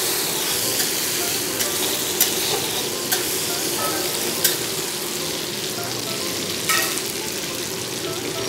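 Chopped tomatoes go into onions frying in a large kadai for an aloo palak curry, producing a loud, continuous close sizzle and hiss with light stirring scrapes throughout and no talking.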